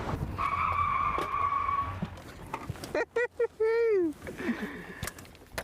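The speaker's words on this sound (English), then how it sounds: "I pit maneuvered him so he couldn't finish the race" A race car squeals and skids as its tires lose grip after a PIT maneuver in a van-versus-wagon race, with a long screech, a sharp wavering squeal, then more tire noise, and voices heard briefly.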